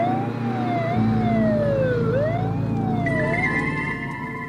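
An ambulance siren wails loud and close, its pitch sweeping up and down steadily with a second siren tone joining partway, over a low vehicle rumble.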